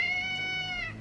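A cat gives one drawn-out, fairly clear meow indoors, close to the listener, rising slightly and then trailing off, with no one talking over it.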